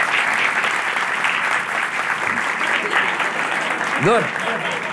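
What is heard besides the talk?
audience applause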